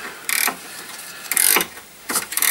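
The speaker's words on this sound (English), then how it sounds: "Access to this is a bit less straightforward, so I've got a ring spanner." Ring spanner working the top nut of a Toyota Yaris anti-roll bar bush, three short, close metallic clicking bursts separated by brief pauses, with nothing else audible.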